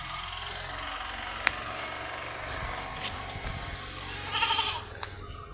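Four female Malabari goat kids for sale bleat in short, high, wavering calls, with one clearer cry near the end over a steady background hiss.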